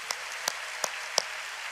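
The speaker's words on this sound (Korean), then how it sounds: "우리 청년부를 위해서도 박수 한번 치겠습니다." A church congregation applauds a youth group at a Friday night worship service; four sharp claps stand out at an even beat over a faint, distant bed of applause.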